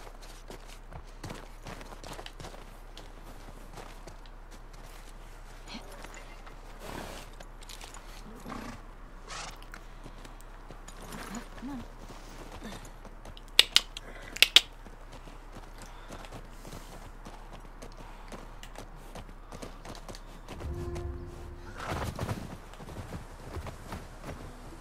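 Horse hooves clip-clop at a steady walking pace in The Last of Us Part 2, moderately close over a constant low ambient hum, with a few sharper knocks and a louder rustle near the end; no one speaks.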